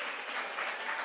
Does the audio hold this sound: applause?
yes